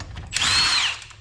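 An impact gun or power tool whirs in one short burst, close and loud, to remove old Keystone wheels from a 1973 Dodge Charger.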